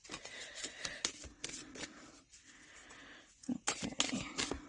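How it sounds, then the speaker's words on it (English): Soft riffling and flapping of large tarot cards being shuffled in quick bursts, with a brief pause midway before the shuffling resumes close by. "I'm just going to shuffle them this way."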